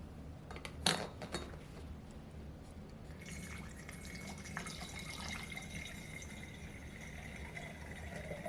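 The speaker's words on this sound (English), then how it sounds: "So we're gonna pour about half of it in," Spring water is poured through a funnel into a gallon jug for mead making, a soft trickling and dripping stream following a brief clink of the container, quiet and close.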